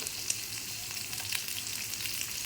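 Fish frying in a pan with only a little oil, a steady close sizzle with faint crackles throughout and no voices.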